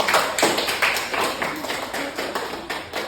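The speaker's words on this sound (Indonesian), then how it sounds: "Tepuk tangan biar semangat" Classroom students clapping for a small group, a short burst of loose, somewhat rhythmic claps close by, with faint voices behind.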